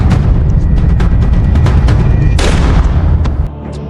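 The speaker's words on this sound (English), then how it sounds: "Just as Victor was about to go inside, a gunshot was heard." Gunfire in a tense mafia film scene, a dense burst of loud booming cracks packed into a few seconds over a rumbling low end, ending in a sharp crack before fading.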